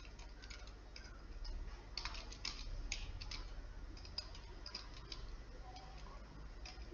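Faint, irregular clicking of keys on a computer keyboard while a C++ program is typed in Turbo C++, soft tapping under a low background hum.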